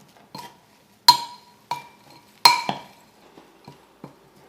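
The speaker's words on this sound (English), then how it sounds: "Just give that a good stir." Oats and sliced almonds for a crumble topping are stirred in a bowl, giving a handful of sharp, separate clinks of spoon against bowl spaced irregularly, with quiet scraping between them.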